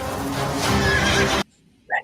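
A horse in a film scene gives a loud, bright whinny over busy background sound that cuts off abruptly, followed by a short burst of a voice after a brief silence.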